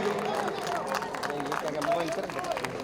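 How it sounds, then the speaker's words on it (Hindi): Audience at the Border 2 song launch clapping for the performers, a dense patter of applause mixed with crowd chatter and voices. "एक बार जोरदार तालियां इन सब रॉक स्टार्स के लिए"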